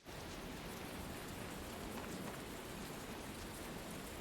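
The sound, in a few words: sudden rain downpour in the video game Tales of Berseria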